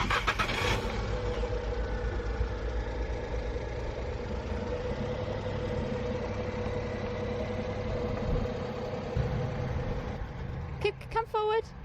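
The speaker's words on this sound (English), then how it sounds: "I just move the car forward slightly using the engine, because we're on gravel" Small car engine idling and creeping forward slowly on gravel while being hitched to a motorhome A-frame tow setup, a steady low rumble held close throughout, with a brief voice near the end.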